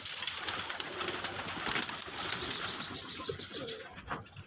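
Desi domestic pigeons sitting on eggs coo softly and repeatedly, low murmuring calls close by and faint, with no speech.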